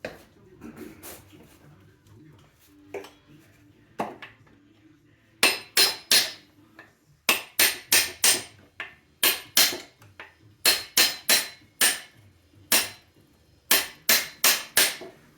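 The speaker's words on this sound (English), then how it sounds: "Got the punch, got a hammer, and that's what I'm using on the other side." Hammer blows on a steel punch driving a bolt out of a JAWA 350 motorcycle engine, sharp metallic strikes coming in quick bursts of two to four, close and loud, with quieter scattered taps at the start.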